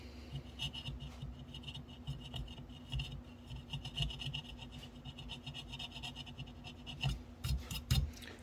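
A metal part from an AHM RS11 model locomotive rebuild is lightly tapped and rubbed to smooth out a divot, a quiet close rasping and scraping in uneven strokes over a low steady hum, no voices.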